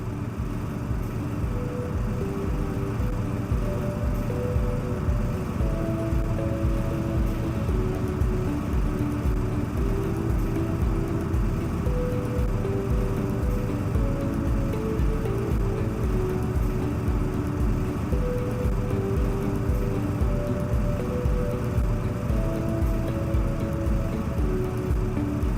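Steady, loud diesel engine drone of a motor grader cutting a V ditch, with the tires down in the ditch, a continuous low rumble and mechanical hum without pause and no voices.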